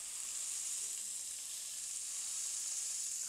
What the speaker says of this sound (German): Ich lasse nochmal kurz ein bisschen anbraten und gleich geht's runtergesmashed